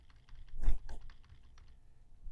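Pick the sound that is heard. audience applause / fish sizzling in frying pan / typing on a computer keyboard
typing on a computer keyboard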